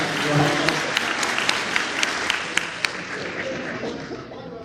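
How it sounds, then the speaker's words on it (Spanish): Seminar audience on a professional education evening applauding steadily, a dense close round of clapping with a few sharp individual claps standing out, with no talk over it. "Gracias por los aplausos, dije."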